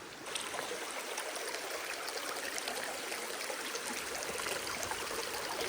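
A shallow stream runs over rocks in a steady, close, broadband rush and trickle that holds even throughout, with no voices over it.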